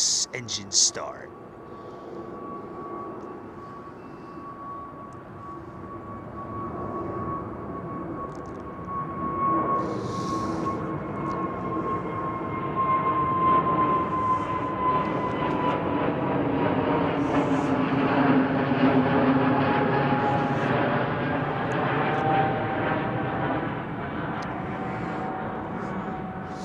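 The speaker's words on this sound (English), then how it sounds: "GE9X engine start." A GE9X engine spins up at London Heathrow, a rising whine that builds into a swelling roar over about twenty-five seconds, while people talk.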